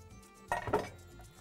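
A metal utensil scoops tomato-sauced grilled chicken breast out of a cooking pot, producing two quick close scrapes and clinks against the pot in an otherwise quiet kitchen.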